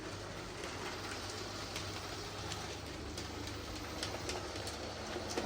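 A model DMU train runs on a model railway, giving a steady, fairly faint whirring and rattling hiss that continues evenly with slight clicks of wheels over track.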